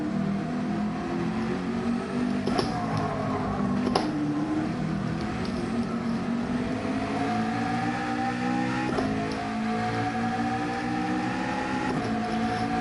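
A car engine revs and drones steadily in a racing video game, with periodic sharp clicks of gear shifts and the pitch rising and falling between changes, close and continuous.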